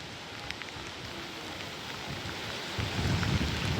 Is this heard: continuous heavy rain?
yes